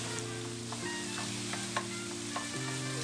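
Minced pork and garlic paste fry in a pan of vegetable oil over the highest heat, a close, busy sizzle with scattered stirring clicks and spatula scrapes over a low steady hum, no voices.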